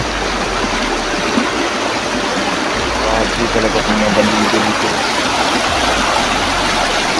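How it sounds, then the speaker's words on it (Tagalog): A river swollen after overnight rain rushes with a strong current, a loud steady roar of flowing water up close while someone talks over it. "Kaya malakas talaga yung agos ng ilog"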